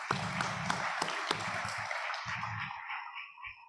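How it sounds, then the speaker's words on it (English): A graduation audience claps for the families, dense sustained applause that thins out and fades toward the end. "So now we're going to clap for the families"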